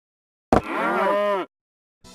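A single cow moos in Battlefield 3, one close, drawn-out, tonal low call lasting about a second after a sharp onset, standing alone in silence before a faint new sound starts.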